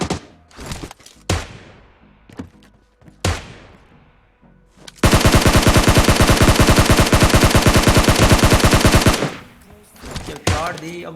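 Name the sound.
gunfire in PUBG video game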